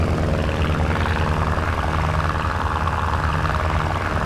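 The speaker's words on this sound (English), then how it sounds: "Nice little pop sound engine to it." Engine drone of a de Havilland Dragon Rapide DH-89 biplane in Microsoft Flight Simulator, a continuous, loud, steady propeller roar with a faint popping texture and no talk.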